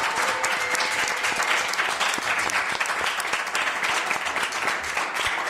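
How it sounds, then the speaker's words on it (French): Dense, loud audience applause for Daniel at an evening celebration, a steady wash of many hands clapping together without pause for the whole stretch. "On applaudit Daniel pour l'encourager."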